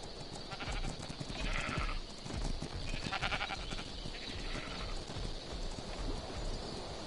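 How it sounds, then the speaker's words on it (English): Sheep in the survival game Ark Survival Evolved bleat repeatedly in wavering calls that overlap a busy background of hooves and ambient game noise, moderately loud throughout. "Let there be sheep!"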